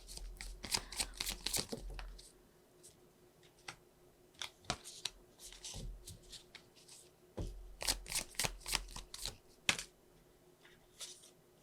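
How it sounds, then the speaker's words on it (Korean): Tarot cards are shuffled and drawn in quiet, close bursts of crisp riffling and flicking, two busy clusters of shuffling separated by softer single card snaps and slides. "추가 카드 좀 뽑아보도록 할게요"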